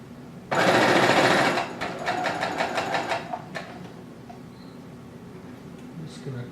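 A sewing machine stitches a Renaissance peasant tunic seam in a loud rapid whir lasting about a second, then slower stuttering stitches fade out; a voice speaks quietly nearby.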